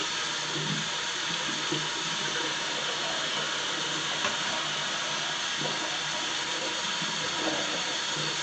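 Water runs steadily from a sink tap in a bathroom, a constant close hiss and splash with no talk over it.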